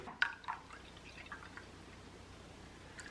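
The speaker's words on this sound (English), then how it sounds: "So let's get the apple cider poured in." Apple cider pours into a cooking pot in a home kitchen, a brief splash and trickle at the start that quickly fades to quiet room tone.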